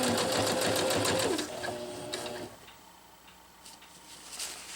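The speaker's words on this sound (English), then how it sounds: "I'm going to sew until I get to the base of the grosgrain." Sewing machine stitching a zipper onto a jungle hammock near grosgrain ribbon, a fast rapid whirring run that slows and stops, leaving faint ticks and handling noises.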